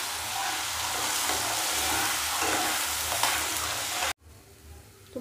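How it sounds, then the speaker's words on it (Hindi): A paste of onion, garlic and green chili fries in a pan with a loud, steady sizzle and hiss, close by, then cuts away to a quieter background at the end. "और अच्छे से पेस्ट को भी फ्राई कर लेंगे।"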